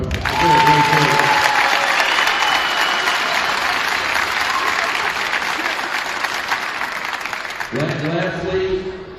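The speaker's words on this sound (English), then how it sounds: "Let's give them a round of applause." Applause from the audience at a ceremony honoring basketball coach Cardon, a loud sustained round of clapping that fills the room for several seconds and then tapers as a voice returns near the end.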